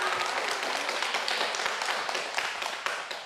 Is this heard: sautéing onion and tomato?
no